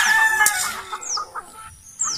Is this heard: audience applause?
no